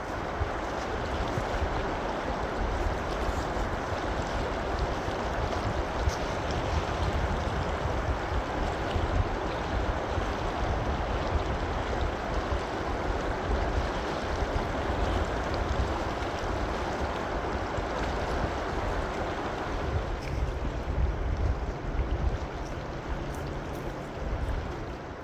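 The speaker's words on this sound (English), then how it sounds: "As I sat there listening to the sound of the river" A river flows steadily past a camping spot with a fire pit, a constant broadband rush of moving water that stays loud and unbroken throughout with no voices.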